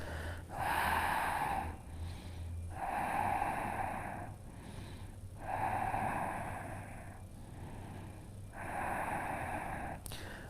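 Slow, deep breaths taken while holding a yoga pose, four long inhale-exhale cycles spaced a few seconds apart, close and fairly quiet, with a low hum underneath.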